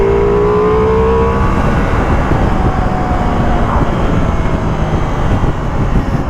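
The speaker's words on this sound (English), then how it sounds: "The V4 has just got way too much grunt. That was 4th gear pull." A Ducati Multistrada V4 S engine pulls hard in fourth gear, a loud, steady, rising engine roar mixed with heavy wind rush, close and continuous throughout.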